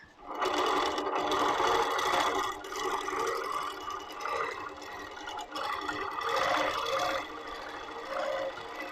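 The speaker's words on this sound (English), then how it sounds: "we're doing this wiggly stitch within what will be the binding area" A Moxie longarm quilting machine on a Loft frame runs steadily through a wiggly stitch in the binding area, a continuous close mechanical whir with slight rises and dips and no talk.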